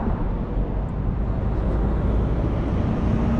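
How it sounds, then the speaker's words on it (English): A truck passing along a roadside, a steady broadband rumble of heavy road traffic that stays loud and close throughout with no talk. "I'm waiting for this truck to go by."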